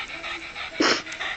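A dog pants in quick, rhythmic breathy puffs up close, with one louder huffing breath partway through.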